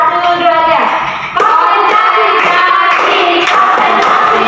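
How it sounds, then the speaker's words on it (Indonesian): Students in a classroom guidance session doing a concentration clapping routine, with bursts of rhythmic group claps mixed with voices chanting and talking loudly throughout. "kita tepuk konsentrasi dulu ya"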